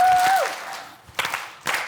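Lecture-hall crowd performs a playful novelty clap with kneading hand motions, a fading spread of applause after a brief feedback tone, then two sharp group claps spaced about half a second apart.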